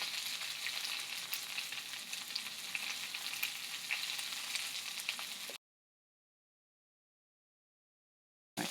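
Brussels sprouts frying in a pan, a steady bright sizzle and crackle at moderate level for several seconds, then cutting off abruptly into silence before a brief return.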